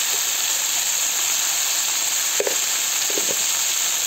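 Sliced ridge gourd frying in a pan with salt and turmeric, a constant loud hiss of sizzling oil with a couple of brief utensil clinks partway through, close up and without speech.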